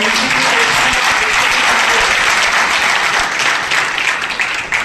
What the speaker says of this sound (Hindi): भैया आपको जोर से तालियां बजानी चाहिए ना।